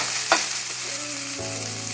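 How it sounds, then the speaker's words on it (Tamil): Onions frying in a pan for chilli idli, a steady broadband sizzle throughout with a sharp clink of a utensil near the start and a low tone entering partway through. "நல்லா வெங்காயத்தை ஃப்ரை பண்ணிக்கோங்க."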